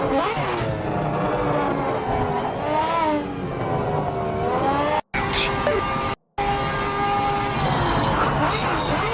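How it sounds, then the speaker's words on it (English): A four-rotor rotary engine in a racing game revs hard, a high, rising and falling engine wail with layered harmonics, broken by two brief dropouts, then climbing again near the end. "This sounds like a four-rotor."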